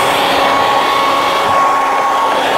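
A heat gun blows hot air steadily at close range onto a piece of resin being softened for bending, a loud continuous whooshing hum with no breaks and no talking.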